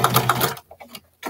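A home sewing machine stitches a seam on a pair of short pants, a close rapid chattering run that cuts off after about half a second, followed by a few faint scattered clicks.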